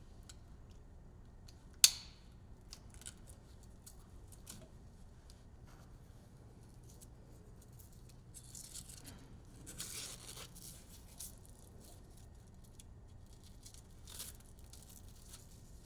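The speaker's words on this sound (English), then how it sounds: "feed the center strap through the loop and the canvas and loosely attach the Velcro" Velcro strap pressed onto the canvas top of a 2022+ Polaris Slingshot, with one sharp, close ripping crackle early on, then faint rustles and crinkles of the fabric in a quiet setting.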